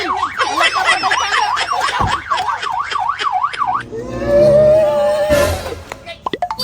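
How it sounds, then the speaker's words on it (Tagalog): A loud siren wails in rapid up-and-down cycles for several seconds, then cuts off into a lower fading tone as voices and a sharp shout take over. "Ngano nakadungog mo ni wangwang dito?"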